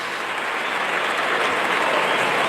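A large crowd at an Australian football match between Brisbane Lions and North Melbourne roars in a steady, loud wash of cheering that builds slightly across the moment, with no voices standing out.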